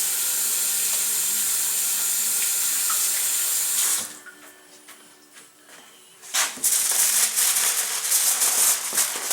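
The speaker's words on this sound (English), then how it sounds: "Now, wash my hands." A kitchen tap runs hard while hands are washed, then the water cuts off for a couple of seconds of muffled hand-rubbing before the loud hissing flow resumes.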